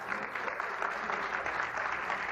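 Applause from a crowd honoring two young women boxers at a Southern California women's boxing championship, a steady dense wash of clapping filling the short moment.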